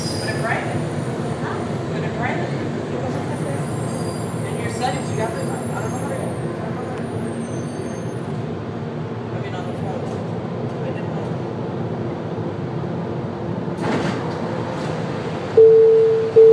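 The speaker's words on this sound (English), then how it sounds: "The train is approaching Knight Center Station." A Miami monorail car hums and rumbles steadily while moving toward Knight Center Station, with occasional clicks and a rising whine; a recorded voice makes an announcement over it.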